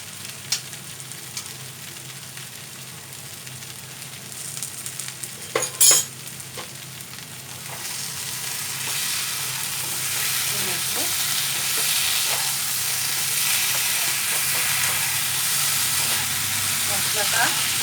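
Spice masala fries in a pan for a Bengali potol and rice dish, a steady sizzle and hiss that grows louder partway through, with a few scrapes and clanks of stirring.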